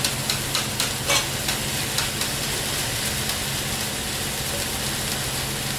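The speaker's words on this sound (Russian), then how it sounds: "Все это дело обжаривается." Vegetables frying in a pan for fresh cabbage shchi on a lamb broth, a steady close sizzle with occasional stirring clicks and scrapes, no talking.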